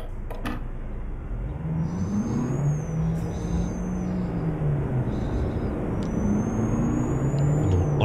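In Euro Truck Simulator 2, a high, steady turbo whine rises and falls above a loud, droning heavy truck engine rumble, with a brief hiss near the start.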